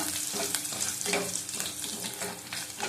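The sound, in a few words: fenugreek seeds frying in oil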